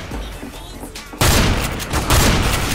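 Rapid automatic gunfire bursts out loudly and keeps going in Counter-Strike: GO, after a quieter stretch of the game's softer background sound.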